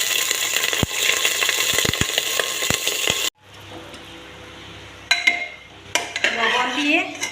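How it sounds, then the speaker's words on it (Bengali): Cauliflower dropped into hot mustard oil in a pressure cooker, a dense frying crackle with sharp metallic clinks, then a quiet gap followed by renewed sizzling and spoon scrapes. "প্রথমে আমি প্রেসার কুকারে সরষের তেল গরম করে নিলাম। ফুলকপি ছেড়ে দিচ্ছি।"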